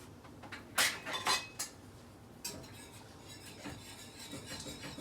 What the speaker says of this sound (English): I just had to stir my sauce here so we don't get a skin forming